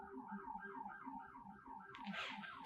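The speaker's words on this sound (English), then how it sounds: "Can you hear the ambulance?" An ambulance siren wails in a steady rising and falling cycle, faint and far off, with a brief burst of hiss near the end.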